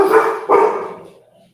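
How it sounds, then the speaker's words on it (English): Two quick barks from a nearby dog, the second trailing off into a short whine. "The puppers, they are barking. They're barking quite a lot."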